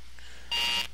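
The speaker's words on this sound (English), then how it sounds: "the alarm clock he placed on the floor went off" An alarm clock set on the floor beeps once, a short, bright electronic tone standing out over a quiet room.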